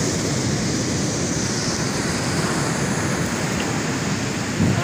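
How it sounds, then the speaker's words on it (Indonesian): Ocean surf rolls toward the shore in a steady, loud, broadband wash with wind noise on the microphone, continuous and without voices throughout. "Di sini Anda melihat bahwasanya ombak itu bergerak menuju ke daratan."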